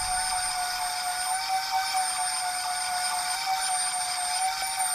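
A steady, high-pitched motorized whine holds constant throughout, close and fairly loud, as a power sander sands wood flush to a guitar neck's headstock.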